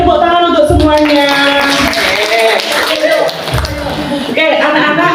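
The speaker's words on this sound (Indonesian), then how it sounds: "beri tepuk tangan untuk semuanya" Students and teachers clap in a school classroom during a teacher workshop, a close, uneven burst of hand claps mixed with loud talking and voices over it.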